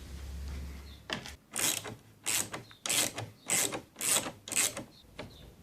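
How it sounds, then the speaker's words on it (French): A ratchet wrench fitted with a Torx 25 bit backs out front bumper screws on a Volkswagen Polo IV, clicking in about six crisp, evenly spaced bursts, close and clear with no talk. "Donc voilà l'outil en Torx 25, donc j'ai pris une clé."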